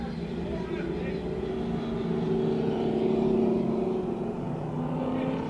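Pro Stock race cars running on an oval track, a distant steady engine drone that swells slightly midway, heard under a commentator's voice.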